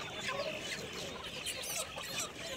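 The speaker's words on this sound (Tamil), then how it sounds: "நிறையா சண்டைக்கோழி நாட்டுக்கோழிலாம் நிறையா இருந்தது." Several chickens, including fighting and country breeds, cluck and squawk together at the busy Vadalur market, a steady chorus of bird calls at moderate volume.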